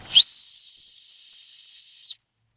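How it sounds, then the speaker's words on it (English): A single loud, piercing blast from the emergency whistle of a GP1945 Bolt Action Plus pen, held steady for about two seconds, then cut off abruptly into silence. "that's how the emergency whistle works"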